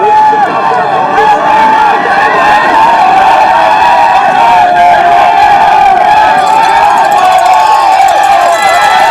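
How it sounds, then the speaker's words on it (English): A large, noisy roadside crowd cheers and shouts at a cyclocross race, a loud, dense and continuous roar with horns and whistles mixed in, heard close throughout with no pauses. "This is the noisiest crowd we've had all season."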